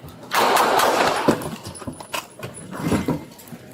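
Gunshots ring out during a police encounter with a suspect, a loud burst of rapid cracks followed by several more scattered shots and rattling noise, close and harsh.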